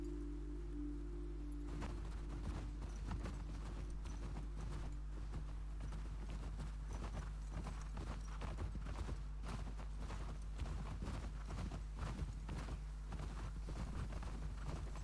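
Horse hooves clip-clop in a steady walking rhythm in The Last of Us Part II, continuous and moderately close over a low constant hum of game ambience and music.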